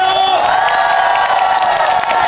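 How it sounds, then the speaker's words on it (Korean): A large outdoor festival crowd at a town day celebration concert cheers and claps loudly, a dense, continuous roar of applause and shouts filling the whole moment. "좀 더 세게 박수! 소리 한번 질러주세요"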